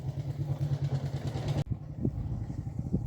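A motorcycle passes along a quiet residential lane: a steady, droning engine hum for about a second and a half, then an abrupt drop to quieter background clatter.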